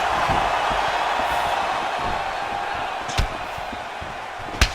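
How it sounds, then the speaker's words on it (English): A steady crowd roar fills the background in a UFC 4 video game fight, with two sharp impact thuds standing out near the end as the noise swells briefly after each. "you hear the crowd react every time they come together"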